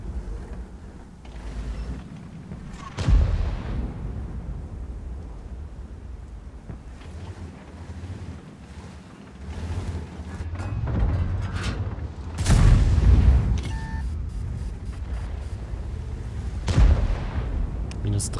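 Tank cannon fire and explosions in the World of Tanks video game, several heavy booms spaced across the clip over a constant engine rumble, with someone talking in German between the shots.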